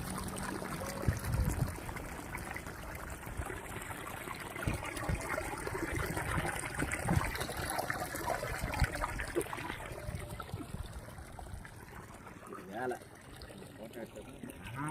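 Water from a 3 HP pump gushes and splashes under pressure in a steady outdoor flow, fairly faint, with a voice talking over it throughout.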